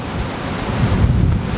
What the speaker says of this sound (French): il y a énormément de vent